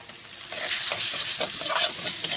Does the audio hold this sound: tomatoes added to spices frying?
yes